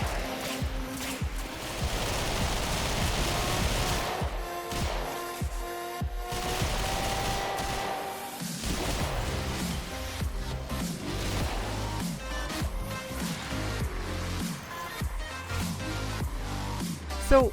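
Gunfire in the Warframe video game during an Elite Onslaught run with a Mesa build, dense rapid shots and impacts layered with game effects, loud and continuous with little pause.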